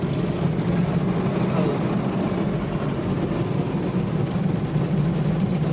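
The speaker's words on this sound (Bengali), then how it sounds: "সামনে হইলে ড্রাইয়ার মেশিন," An automatic machine car wash dryer in London blasts air over a car in a steady, loud, broadband roar that holds constant throughout.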